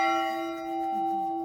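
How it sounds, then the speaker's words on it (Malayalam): A church bell at Geghard Monastery in Armenia rings with a single sustained, resonant tone that hangs and slowly fades, fairly faint and alone. "പള്ളിയിൽ മണിയടിക്കുന്നുണ്ട് കേട്ടോ ഇവിടെ"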